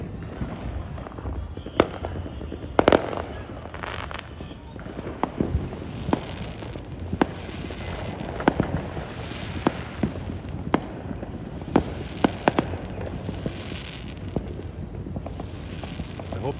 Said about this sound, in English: the fireworks are going off all around me